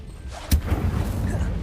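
An Incendio fire spell in Hogwarts Legacy goes off as a single short whooshing thump, followed by a low rumbling tail.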